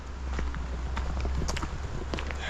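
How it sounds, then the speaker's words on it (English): Goats walking on a road in Tajikistan, their hooves clopping in a quick, uneven patter close by against steady outdoor background noise. "Beautiful goats."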